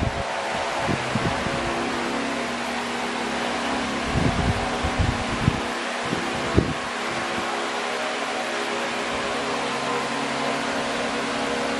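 Homemade wind turbine blades and hub spin freely with a steady whooshing, humming whir, joined by a few faint knocks and rattles midway.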